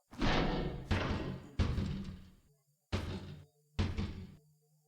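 Video game sound effects of a character trying a train door and then prying it open with a bar: four separate heavy knocking, thudding bursts, each fading out, with short quiet gaps between them and no talking.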